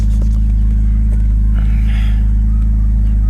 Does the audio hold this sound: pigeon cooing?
no